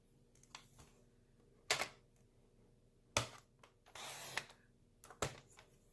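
A paper trimmer slicing cardstock, with a few short, faint swishing cuts and slides separated by quiet gaps, close by.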